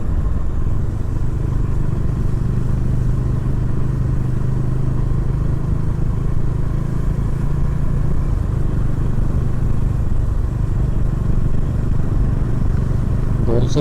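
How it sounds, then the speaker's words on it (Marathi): A Bajaj Dominar 400 motorcycle is ridden slowly, its engine holding a steady, loud, close rumble for the whole stretch with light road noise and no break. "म्हणून मी गाडी हळूहळू चालवतो."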